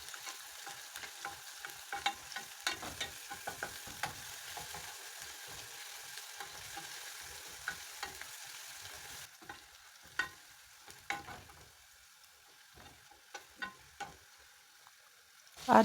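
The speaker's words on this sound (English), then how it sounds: "I will add in my garlic and keep on stirring." Fresh lake omena fish fry with garlic in a pan while being stirred: a soft continuous sizzle broken by scraping stirs and small knocks, fairly quiet overall, ending in a louder clatter.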